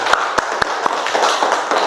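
Classroom of students clapping hands during an Indonesian school lesson, a few sharp, spaced claps standing out over a steady wash of scattered applause.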